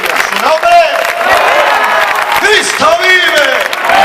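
A church congregation applauds loudly and gives glory to God. Dense clapping fills the space, mixed with shouts, whoops and raised voices throughout.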